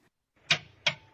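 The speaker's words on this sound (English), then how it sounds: "This is the operating sound of the high-voltage relay." High-voltage relay in a 2010–2015 Toyota Prius clicks twice in quick succession, two sharp, fairly quiet mechanical clacks about a third of a second apart.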